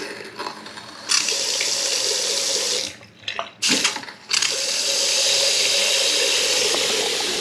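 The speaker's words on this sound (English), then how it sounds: "we leave that to run through, let the hot water come out" Water gushes steadily from a tap after a toilet repair, briefly interrupted by a couple of knocks and splashes, then flows on in a constant hiss.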